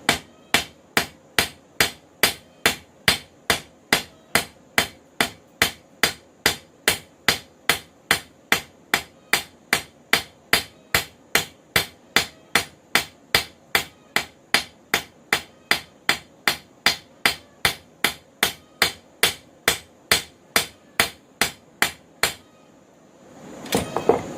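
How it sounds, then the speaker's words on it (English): Steady, evenly spaced hammer blows forging a cable Damascus steel knife ring out one after another, around forty sharp metallic strikes at a brisk regular rhythm, ending with a brief scrape. "start hammering in the distal taper"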